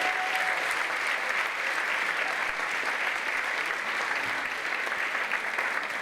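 An audience at a symposium gives a sustained round of applause, dense, even clapping that holds at a steady level for about six seconds with no talk over it.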